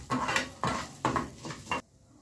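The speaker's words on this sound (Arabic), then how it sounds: "واحمرهم بالزبده" Vermicelli is stirred and browned in butter in a pan for Egyptian belila, making four loud, close scraping sweeps of a utensil against the pan before the sound cuts off.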